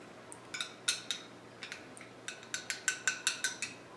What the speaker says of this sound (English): you might have to stir it around a little bit